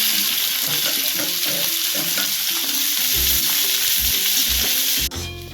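Onions sizzle and crackle steadily in hot oil in a pan, with a few scrapes and knocks of stirring close by.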